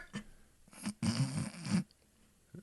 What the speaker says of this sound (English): that's me snoring